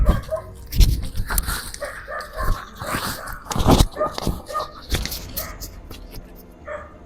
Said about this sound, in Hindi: उधर कुत्ते हैं।